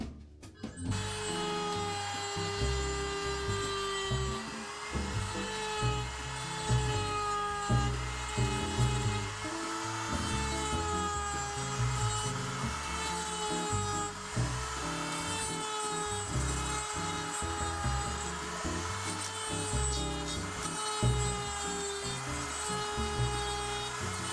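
A handheld rotary tool fitted with a cheap steel bit roughs out a carved wooden tiki, giving a steady high-pitched whine with a throbbing, pulsing grind underneath that runs without a break for over twenty seconds.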